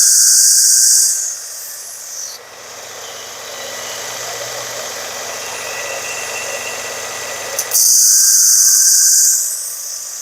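A Work Sharp sharpener runs with a steady whirring hiss as it grinds the blade of a Rosecraft Otter Creek Barlow knife; the louder motor whine gives way to a lower, duller grinding pass in the middle, then returns.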